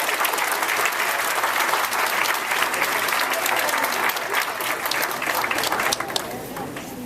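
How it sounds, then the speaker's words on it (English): A graduation ceremony audience applauds in a sustained, dense wash of clapping throughout, loud and even, easing slightly toward the end. "give a round of applause to your families and friends for their encouragement and their help"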